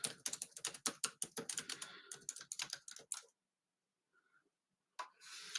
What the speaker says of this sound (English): I'm going to just type this in the comments.